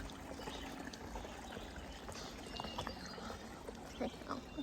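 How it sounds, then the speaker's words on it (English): Water trickles and gurgles steadily over rocks, a quiet continuous flow with small splashes. "Rocky water crossing."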